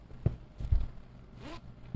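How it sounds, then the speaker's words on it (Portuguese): A zipper on a sewn zippered pouch is pulled in a few quick, close rasping strokes, with small handling knocks between them and no talking. "O acabamento do zíper."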